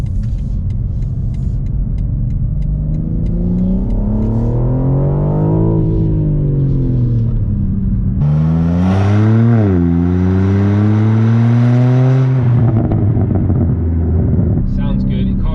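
A BMW G81 M3 Touring fitted with a Remus OPF-back exhaust revs hard twice, each pull climbing steadily then dropping away, with the second sweep louder and more aggressive, under steady wind buffeting.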